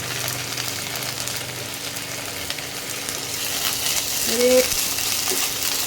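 Ginger garlic paste fries in hot oil with onions, giving a steady, moderately loud sizzle, with a few scrapes and clinks of stirring near the end.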